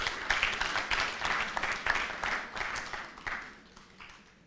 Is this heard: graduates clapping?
yes